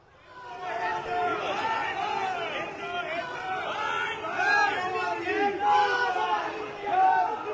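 Protesters at a high commission chant slogans in a dense crowd, the voices swelling and falling in repeated rhythmic bursts, loud and close with general hubbub underneath.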